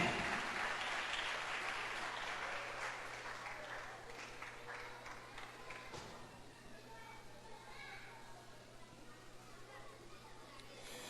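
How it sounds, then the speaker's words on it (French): A crowd applauds warmly at a school end-of-cycle celebration, with loud clapping that slowly fades, while children chatter and call out in the background. "je vous demande de les applaudir chaudement, s'il vous plaît"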